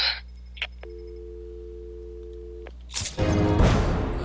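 A phone rings in the video game Batman: Arkham City, a steady electronic tone holding for about two seconds, followed by a burst of loud game noise.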